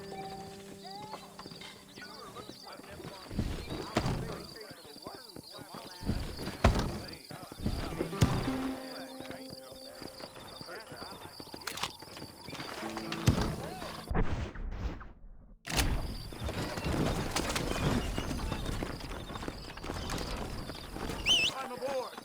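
Horse hooves clip-clop as horses are hitched to a wagon in the Red Dead Redemption video game, with a horse whinnying and scattered thuds under frequent speech.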